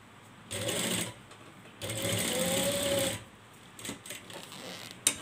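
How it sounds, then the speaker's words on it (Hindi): A sewing machine stitches a double-layer frock fabric in two sustained whirring runs, one short and one longer. Brief softer handling clicks follow near the end. "अब दूसरी साइड से भी हमने इस तरह से स्टिच करना है"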